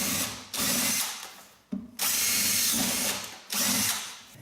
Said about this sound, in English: I'm using a spade bit on a cordless drill.